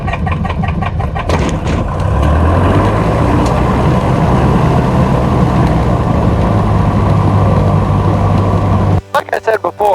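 A Sierra propeller airplane's engine starts on its first flight and settles into a loud, steady drone that runs for several seconds before cutting off abruptly near the end.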